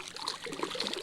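A hand reaching into an icy high-country stream, a brief soft trickle and splash of moving water, quiet and close.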